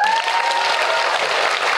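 An audience at a performing arts showcase featuring disabled performers claps steadily and loudly, a dense, even wash of applause that fills the whole moment without any talking.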